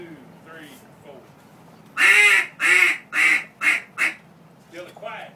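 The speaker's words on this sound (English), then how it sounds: "Then do 1, 2, 3, 4 quacks identical." A handheld duck call blown in a run of about five loud, evenly spaced quacks, close and clear, with quiet talking before and a couple of softer quacks after.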